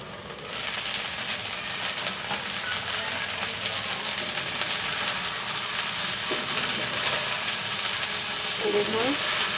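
Okra frying in a covered pan on a stove, a steady hiss and sizzle running throughout with faint clinks, no talking.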